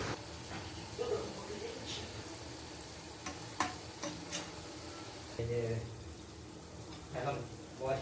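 Cauliflower and potato vegetable balls frying in a pan over medium heat give a soft, low sizzle and hiss, broken by occasional stirring scrapes and clinks, with faint indistinct talk in the background.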